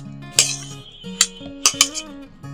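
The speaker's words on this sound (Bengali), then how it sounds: "প্রথমে আমি কলাগুলো দিয়ে দিচ্ছি, তারপর আমি আপেলগুলো দিয়ে দিচ্ছি" Sliced bananas and apples dropped into fruit custard in a bowl: a few sharp clinks of a utensil against the bowl, spaced apart, over faint tonal background music, fairly close.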